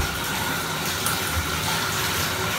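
Tap water runs steadily into a bath while a puppy is rinsed, a close, continuous gushing hiss with slight splashes and no voices.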